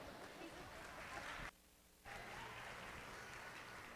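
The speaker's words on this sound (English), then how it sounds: "Give all of them a big round of applause." A crowd at a lamb show claps steadily in sustained applause, broken by a brief pause before the clapping resumes.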